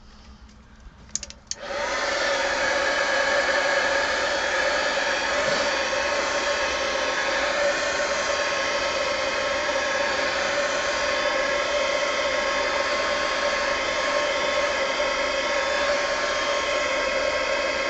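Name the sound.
heat gun blowing hot air on an art journal page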